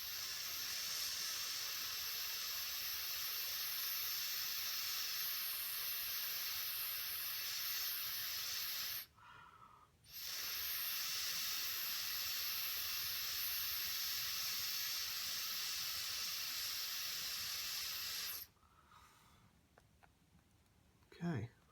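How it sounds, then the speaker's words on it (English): A hot air tool blowing onto leather repair paste on a jacket, a steady airy hiss running in long stretches with two brief pauses, quiet and close. "let's hit it with a little bit of a hot air here."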